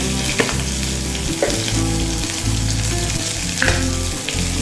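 Ginger paste sizzling loudly in oil in a frying pan for a vegetarian Bengali potol shahi kofta gravy, with hing already added, a dense continuous hiss close by, with a few faint stirring scrapes and no talking.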